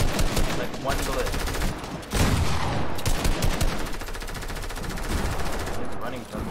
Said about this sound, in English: One shot, one shot on Andy